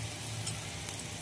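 Whole cumin, cinnamon sticks, cardamom pods and cloves crackle in hot oil, a close, steady sizzle with a few brief pops, heard alone.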